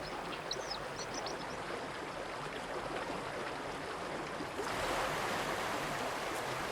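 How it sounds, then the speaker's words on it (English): Mountain stream swollen with meltwater in alpine country, a constant broadband rush of fast-flowing water, fairly close and steady, growing slightly louder near the end, with faint bird chirps early on. "Meltwater also swells mountain streams."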